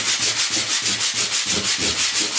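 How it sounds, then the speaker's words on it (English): Sandpaper wrapped around blue foam rubs across a wet-felt hat block in quick, even back-and-forth strokes, about four per second. The scratchy sanding is loud and close, with nothing else heard. "that will enable you to sand that kind of shape in"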